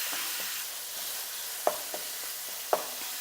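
Ground meat sizzling in a pan for a gluten-free, low-carb crack slaw, a soft steady fry hiss broken by a few sharp scraping knocks of a utensil stirring and breaking up the meat, no voices.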